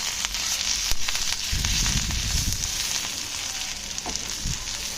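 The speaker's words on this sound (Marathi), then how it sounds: "तो कढीपत्ता आपण जो धुतलेला आहे आणि कोथिंबीर हे देखील छान फ्राय करून घ्यायचं" Washed curry leaves and coriander sizzling in a hot pan for a dry prawn curry, a close, crackling fry with a few sharp pops and light stirring, no voices.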